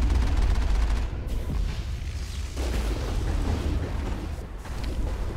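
Gunfire in the Mass Effect video game, a dense, continuous barrage of rapid shots and booming impacts, loud and close, with a few brief dips before the firing swells again.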